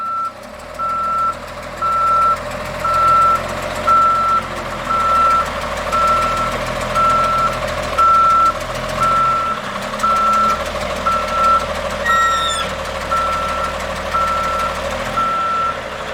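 A big dump truck backs up with a steady, evenly spaced reversing beep over its rumbling diesel engine, loud and close throughout, with a brief high squeal near the end.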